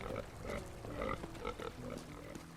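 Pigs grunting in a video game, a steady run of short, rough snorts and oinks at moderate level over a constant background bed, with no talk.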